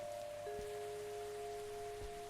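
Steady rain in the Cthulhu adventure game Gibbous, a continuous soft hiss of falling drops under a sustained tonal music drone, with a couple of faint low thumps.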